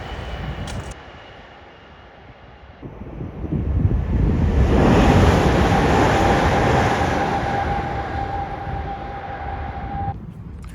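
A train on a high-speed line approaches and rushes past in a loud swelling roar with a sustained whine, then fades as it recedes.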